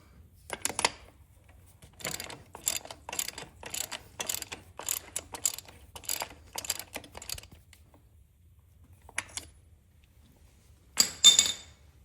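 A ratchet tightens a bolt on a 2020 Kubota RTV X1140 utility vehicle, giving several bursts of quick, close clicking with short pauses between them and a final burst near the end, with no one speaking.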